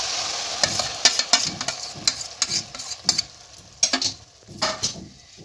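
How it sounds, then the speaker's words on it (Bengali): Butter chicken gravy stirred in a hot pan, a spoon scraping in repeated uneven strokes over a steady sizzling fry, close and clear with no voices. "এবার এটাকে ভালোভাবে নেড়ে নেব।"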